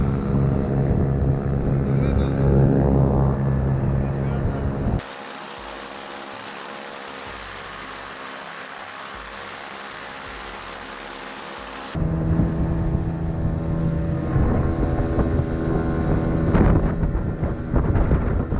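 A loaded motorboat runs through the rapids of the Vym River, its engine droning steadily with heavy wind buffeting; the roar thins and muffles for several seconds in the middle before returning at full strength.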